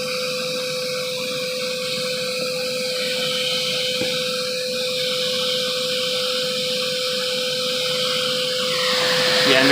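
A Bissell Lift-Off vacuum cleaner runs steadily and close by, a continuous motor whine with airflow hiss that holds level throughout and swells slightly louder at the end.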